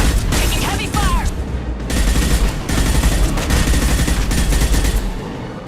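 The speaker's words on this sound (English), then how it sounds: "Taking heavy fire!" Heavy gunfire erupts in the video game Mass Effect 2, with dense continuous bursts of rapid automatic shots and booming impacts, loud and close, and a short whistling streak cutting through early on.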